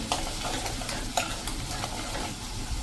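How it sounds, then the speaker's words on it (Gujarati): Spices, including coriander-cumin powder, cook in oil over a slow flame with a soft, steady sizzle and occasional light stirring scrapes, heard close. "સ્લો ફ્લેમ ઉપર આપણે આને સહેજ આ રીતે કૂક કરી લઈશું, એટલે તેલ થોડું છૂટું પડી જાય"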